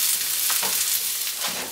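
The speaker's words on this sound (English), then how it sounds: "So just fry up your garlic for a couple of minutes." Garlic frying in a pan for vegan creamy mushroom soup, a close, continuous bright sizzle with faint stirring scrapes throughout and no talking.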